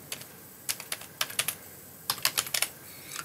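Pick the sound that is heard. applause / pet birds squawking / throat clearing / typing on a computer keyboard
typing on a computer keyboard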